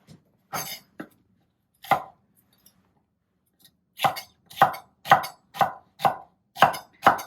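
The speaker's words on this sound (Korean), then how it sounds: "피망을 사용할 때는 네모나게 써시면 돼요" Green bell pepper sliced into squares with a knife on a cutting board: a few scattered chops at first, then a steady rhythm of about ten crisp, close knife strikes.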